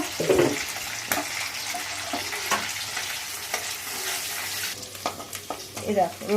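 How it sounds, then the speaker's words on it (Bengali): Finely chopped chicken and garlic fry in a pan for chilli chicken, giving a continuous moderate sizzle with a few utensil taps and clinks. "একটু লালচে হোক চিকেনের কুচি, রসুনের কুচিটা।"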